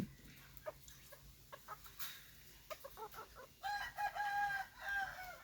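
A young rooster of a fighting-cock breed crows in a few drawn-out calls near the end, after scattered clucks and scratching sounds nearby.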